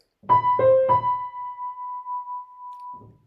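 Three piano notes struck in quick succession from the opening of a song, B then C then B, the last note ringing out clearly and sustaining alone for about two seconds before fading, with a soft thump at the end.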